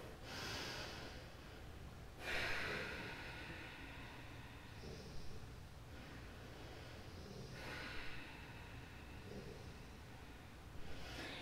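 Dog snoring nearby during a quiet yoga session, with slow repeated snorting breaths every few seconds, soft and close over a faint hiss.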